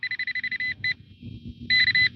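A cheap $20 handheld metal detector pinpointer in a front yard gives a rapid run of short electronic beeps, a brief pause, then another burst of quick beeps, loud and close.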